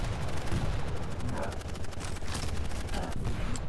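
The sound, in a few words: machine gun fire audio bug in video game Quake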